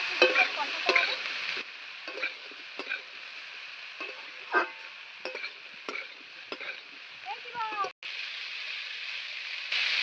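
Spices and boiled coconut are stirred and fried in a pan, giving faint scraping strokes and a light sizzle in quick irregular bursts, close by, with no talk.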